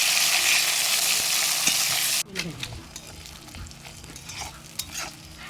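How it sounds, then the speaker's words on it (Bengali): Onions and bay leaves frying in oil for a Bengali chicken curry, a loud steady sizzle at first that suddenly drops to a quieter crackle with occasional utensil stirs and clinks. "ওই তেলেই তেজপাতা আর পেঁয়াজ ফোড়ন দিয়ে পেঁয়াজটা ভালো করে লাল লাল করে ভেজে নেব।"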